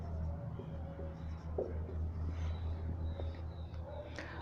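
A teacher writes on a board during a classroom lesson, making soft scratchy strokes and light taps over a steady low room hum.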